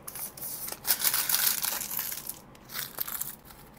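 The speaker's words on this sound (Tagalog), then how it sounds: "Punitin na natin." Paper packaging of an iPad mini crinkled and torn open, a close crunchy crumpling burst that swells, dips, then returns in a second shorter round of rustling.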